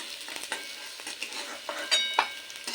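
Fried potatoes in mustard oil stirred in a kadai, with soft sizzling under a series of quick scraping and clinking strokes from a spatula, close and fairly quiet, no talking.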